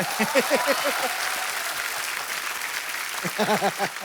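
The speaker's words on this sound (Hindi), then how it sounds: "तो बड़ा जोरदार तालियां।" Studio audience clapping on a comedy talk show, steady and fairly loud, with a voice speaking over the applause at the start and again near the end.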